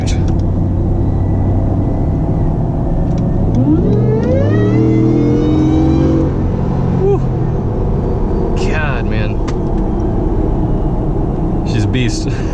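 A 700HP Shelby F150 Tonka Edition pickup accelerates on a highway on-ramp, giving a loud, steady engine drone with a rising rev sweep midway, while someone talks over it.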